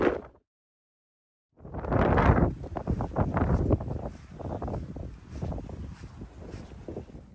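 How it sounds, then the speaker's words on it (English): Strong wind buffets the microphone at a wild camping site, a loud continuous roar with gusting surges after a brief near-silent gap at the start. "it's windy"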